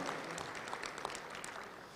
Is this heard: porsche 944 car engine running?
no